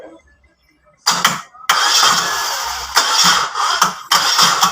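A Mazda 323 starter motor cranks in loud, close bursts after a quiet moment, a harsh whirring grind that stops and restarts several times without the engine catching.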